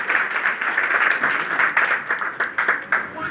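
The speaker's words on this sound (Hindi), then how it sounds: "एक बार शानदार तालियां होनी चाहिए हमारे सभी जितने भी हमारे दोस्त हैं सभी के लिए।" Audience members at a seminar clap for first-time attendees, steady group applause that turns into scattered individual claps near the end, with faint voices underneath.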